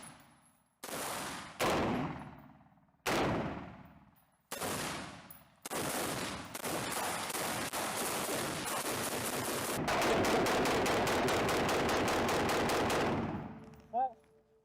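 Full-automatic rifle fire at a close target during tunnel combat training in an advanced tunnel: several short loud bursts with echoing decays in the enclosed space, then long sustained rapid strings of shots, ending with one sharp single crack.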